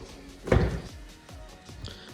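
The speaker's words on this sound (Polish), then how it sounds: "zamykamy drzwi, zamykamy samochód" A single solid thunk of a BMW E90 car door shutting, near and fairly loud, followed by a few faint knocks and rustles.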